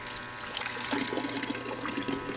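Water runs steadily from a solar-powered pump in a water system, a continuous trickling and splashing flow heard up close with no voices over it.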